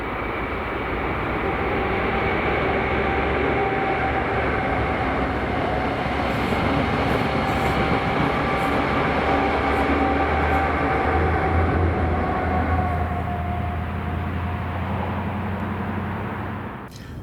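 Network Rail's New Measurement Train, an HST set led by power cars 43257 and 43062, roars past on a Scottish main line, a loud steady rumble and engine drone sustained close by for the whole stretch before easing slightly at the end.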